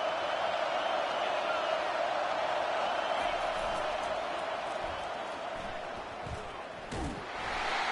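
A large stadium crowd at a college football game, South Carolina Gamecocks against Oklahoma, roaring in a dense continuous wash with a sharp slam-like bang near the end.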